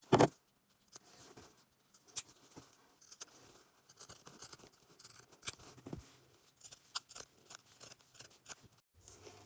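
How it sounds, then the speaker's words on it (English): Pinking shears trim fabric around sewn edges in a series of crisp, close snips with an uneven rhythm, heard alone in a quiet room. "I'm going to take my pinking shears and I'm going to trim up"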